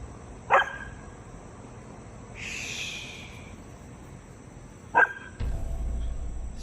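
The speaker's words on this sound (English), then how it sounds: "What you barking at, bud?" A dog barks in two sharp single barks a few seconds apart at night outdoors, with faint insects chirping in the background and a brief hiss between barks.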